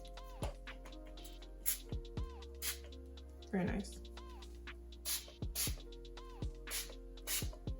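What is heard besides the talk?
setting spray being sprayed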